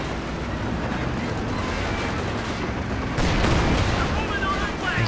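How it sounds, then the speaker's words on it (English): Company of Heroes 2 battle: an M10 tank destroyer firing armour-piercing rounds amid dense, continuous gunfire and explosions, with a louder burst of fire after the midpoint. "M10's popping the AP rounds here"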